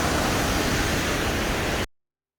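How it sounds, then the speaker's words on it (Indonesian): The Jumo waterfall rushes as a steady, dense wash of broadband noise, loud and close, recorded on a Samsung Galaxy S20+ phone, then cuts abruptly to silence. "Kita masih di air terjun Jumo"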